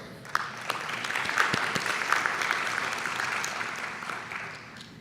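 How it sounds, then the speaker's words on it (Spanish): A crowd at an inauguration ceremony and conference gives sustained, lively applause, a dense clatter of many hands with a few sharper nearby claps standing out. "para lo cual yo pido un fuerte aplauso"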